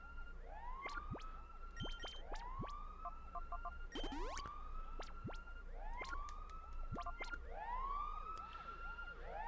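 A looping electronic alarm siren from the Pokemon Colosseum video game rises and falls in repeated upward sweeps, steady and clear, with short sharp blips scattered between the wails.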